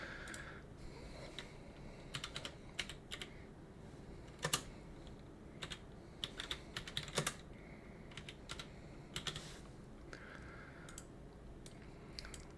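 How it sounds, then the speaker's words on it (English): Computer keyboard keys clicked in uneven bursts of fast and slow typing, with scattered sharper taps and brief pauses between runs, fairly quiet with no talking. "why is he typing so slow?"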